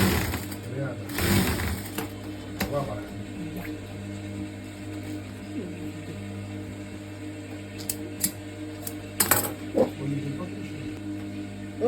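Sewing machine stitching a plunging yoke neckline seam, a steady close mechanical hum with a few louder clicks and rustles of fabric.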